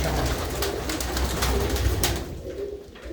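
Pigeons coo close by in a busy, continuous murmur of low calls over steady background noise, easing slightly near the end.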